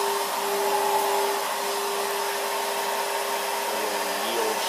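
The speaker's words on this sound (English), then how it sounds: "You turn the shop vac on first." A shop vac runs steadily with a glass sandblaster fed air at 90 psi, giving a continuous broadband whooshing roar with a constant tone, close and loud throughout, with no talking.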